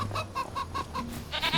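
Chickens cluck in a steady series of short, nasal calls, fairly close, ending in a louder burst of squawks.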